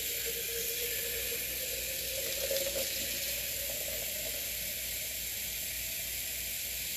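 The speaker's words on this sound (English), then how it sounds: "And I'm going to fill the jar." Scalding hot tap water runs steadily into a jar, a continuous close hissing rush with a faint steamy fizz, no voices.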